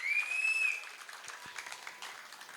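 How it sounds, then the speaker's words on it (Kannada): Faint audience applause at a dance celebration event in Udupi, a thin soft patter of clapping that fades and thins out, preceded by a brief high whistle-like tone. "ನಿಮ್ಮ ಚಪ್ಪಾಳೆಯ ಶಬ್ದ ಮಾತ್ರ ಕಮ್ಮಿ ಕಮ್ಮಿ ಕಮ್ಮಿ ಆಗ್ತಾ ಉಂಟಲ್ಲ"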